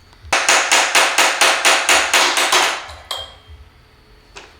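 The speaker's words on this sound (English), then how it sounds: "To remove the bracket, it's better to use a chisel and a hammer." A hammer drives a chisel against a bracket screw on an aluminum explosion-proof LED drop light, giving nine or ten sharp, evenly paced metal strikes up close, then a couple of lighter taps and small clatters.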